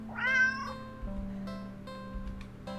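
A cat meows once, loudly and close, a short rising-and-falling cry followed by quieter background hum and faint small noises.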